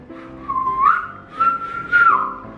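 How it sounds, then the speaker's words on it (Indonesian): A person whistles a steady, close-miked tune with swooping rises and falls in pitch, clear and unaccompanied by talk, during a playful seven-second challenge. "Tapi aku tahu kamu bisa siul."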